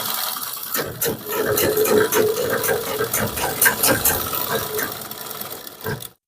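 A sewing machine runs steadily while stitching a kurti, a close mechanical whirr with rapid ticking of the needle that lasts several seconds before stopping abruptly.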